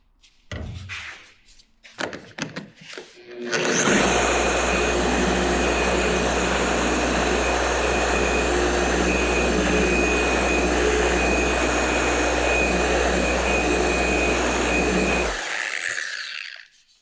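A polisher pad buffing old paint on a 1979 Datsun 620 runs as a loud, steady whine and drone for about eleven seconds, preceded by a few handling knocks and ending with the motor spinning down.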